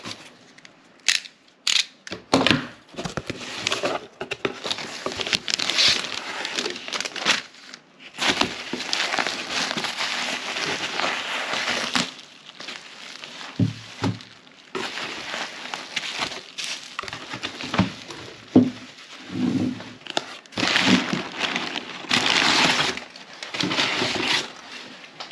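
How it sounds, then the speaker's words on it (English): Magnus Motorsports billet R35 VVT covers for a Nissan GT-R being unboxed, with irregular bursts of crinkling packaging, rattling parts and clicking handling noises up close, no talking. "Let's get these things unboxed and then we'll talk about it further."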